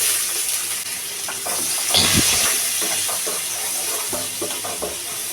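Onions and curry leaves frying in hot oil in a kadai for an Indian egg starter give a steady close sizzling hiss, with small crackles and pops running throughout.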